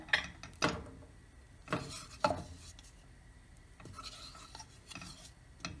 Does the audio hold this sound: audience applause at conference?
no